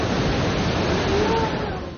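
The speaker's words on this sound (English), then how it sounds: "First up, the Shannon Falls, the third highest waterfall in British Columbia" Shannon Falls, the tall waterfall in British Columbia, makes a steady, dense roar of rushing water that stays loud and close for the whole stretch, with a faint tonal whistle drifting through the middle.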